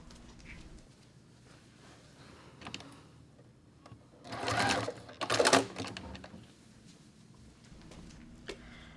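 Sewing machine restitching a coming-apart quilt block seam in two short close bursts, faint and quiet among soft handling noises.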